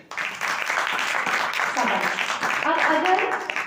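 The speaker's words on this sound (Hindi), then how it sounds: "ताली बजाओ उनके लिए" An audience at a Vedic teaching session claps for a child in a steady burst of applause lasting a few seconds, while voices carry faintly underneath.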